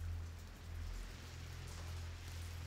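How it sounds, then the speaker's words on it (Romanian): Steady rain falling in the video game A Plague Tale: Innocence, a soft continuous hiss with a low rumbling undertone throughout, no voices. "Plouă."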